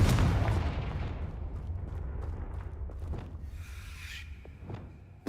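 A fiery Confringo spell blast in Hogwarts Legacy bursts loudly at the start, then decays into a rumbling tail with a few smaller sharp cracks scattered after it.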